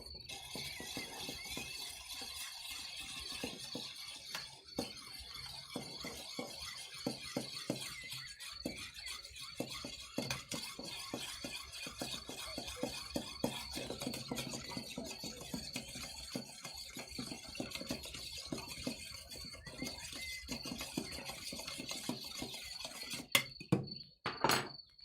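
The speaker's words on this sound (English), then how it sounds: "Did not like stirring with limes in there." A cocktail stirred with ice and lime pieces, a steady run of small clinks, taps and rattles from ice knocking against the glass, fairly quiet and close, ending with a few sharper knocks.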